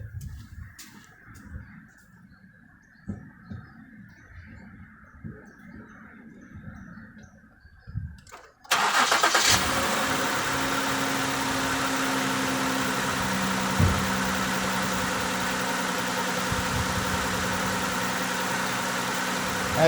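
A Ford 3.5L engine, just back together after a timing and water pump job, cranks and fires partway through, then settles into a loud, steady, close idle; before the start there is quiet with faint birdsong.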